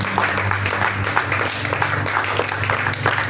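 A church worship congregation applauding together, a steady wash of clapping from many hands with a low drone underneath, mixed with faint voices.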